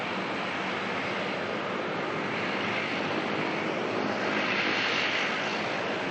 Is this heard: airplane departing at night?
yes